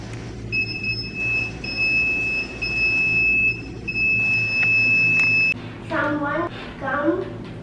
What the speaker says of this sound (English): Someone come, the buzzer will buzz.